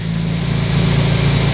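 A Riley Kestrel 1300 car engine runs steadily at close range, a brief, even idle with a regular pulsing beat and no voices.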